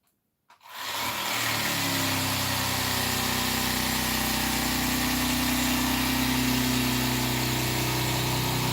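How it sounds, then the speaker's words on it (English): Bandsaw starting up and running with a steady, loud whirring drone that continues unbroken while cutting material for rebuilding an old military jeep seat. "I do have a bandsaw that makes light work of this. It'll cut it pretty quick,"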